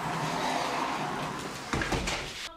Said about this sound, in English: I'll get the door, shall I?